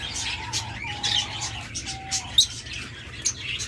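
Pet lovebirds, cockatiels and budgerigars chirp and whistle in short calls and a few drawn-out notes, with bright sharp peeps popping out over a faint background hum.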